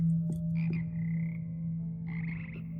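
Frogs croaking in a video game, with a few short croaks early on and a sustained trilling croak that fades, then returns near the end, all heard over a steady low background hum.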